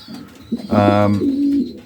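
Racing pigeons coo inside a loft, one close, loud, drawn-out coo rising out of a quieter backdrop of softer bird sounds.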